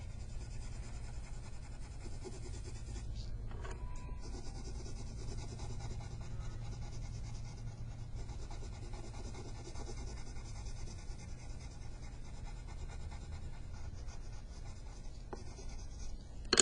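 Steady, quiet scratching of a blue colored pencil pressed down hard on paper, continuous strokes with no talking.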